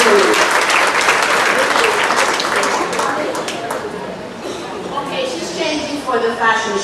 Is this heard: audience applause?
yes